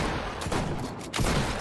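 A new automatic sniper rifle firing in Fortnite, heard as a short burst of loud, close shots over a thick wash of game noise.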